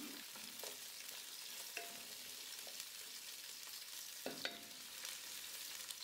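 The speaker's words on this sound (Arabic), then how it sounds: "مع إضافة رشة ملح بقلب البصل بشكل منيح مع الزيت والسمنة حتى يتشوح ويبدأ يدبل بدون ما يتغير لونه" Large slices of onion sautéing in hot oil and melted country ghee with a pinch of salt, a steady soft sizzle with occasional stirring clicks, close and fairly quiet, no talking.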